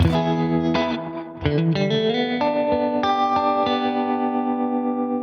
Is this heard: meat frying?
no